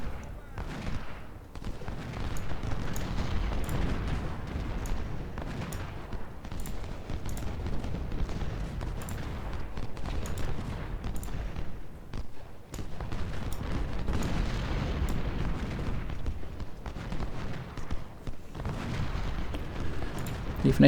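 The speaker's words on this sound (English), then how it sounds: "Cannons down here as well." Cannons fire steadily across a Civil War battlefield at Shiloh in Ultimate General: Civil War, heavy artillery thuds overlapping with crackling gunfire in a dense, continuous roar, with a voice talking faintly underneath.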